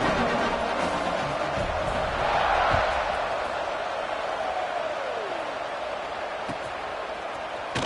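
Simulated stadium crowd in the College Football 26 video game before a kickoff: a steady, broad roar of many voices, fairly loud and continuous, swelling slightly partway through and then holding level.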